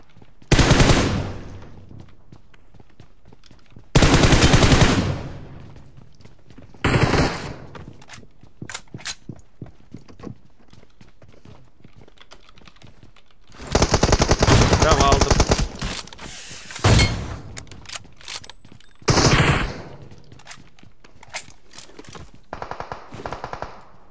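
PUBG Mobile gunfire arrives in several separate loud bursts of automatic fire, spaced apart by quieter stretches of faint game ambience, with one longer volley around the middle.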